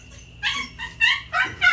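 Newborn puppies whimper in a series of four thin, high, rising cries close by, each short squeal following the last with brief pauses between.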